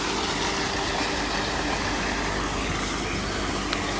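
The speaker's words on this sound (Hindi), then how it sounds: "अल्लाह दे हुक्म नाल मोटर गई चल" A water pump motor for a bore well, powered by a solar system, runs steadily outdoors with a loud, constant broadband hum and no pauses or talking.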